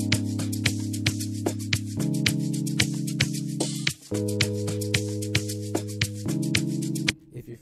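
An amapiano beat built in music software, with a deep sustained bass note on C holding under crisp hi-hat ticks; the bass pattern steps through held notes with brief drops near four and seven seconds.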